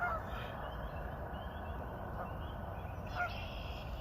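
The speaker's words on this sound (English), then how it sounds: "ducks playing the water." Ducks on the water at a park call out a few times, with brief, fairly faint honking quacks rising over a steady outdoor background hum.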